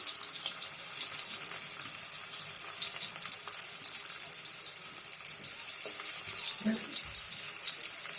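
Chopped garlic and onion fry in a pan at the start of cooking greens, giving a steady, bright sizzle with some watery hiss. The sizzle runs continuously, with a soft thump or clink of the utensil near the end.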